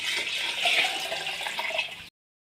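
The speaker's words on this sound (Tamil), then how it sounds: "தண்ணி சேர்த்திக்கலாம்." Water pours steadily into a cooking pot of lentils and rice in a splashing, hissing stream for about two seconds, then stops abruptly.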